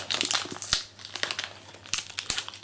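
Plastic packaging being peeled and torn off a Chromecast box: close, busy crinkling and crackling with sharp tearing snaps scattered through, continuous and fairly loud.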